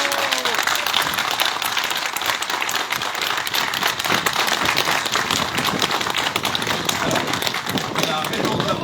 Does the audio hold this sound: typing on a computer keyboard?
no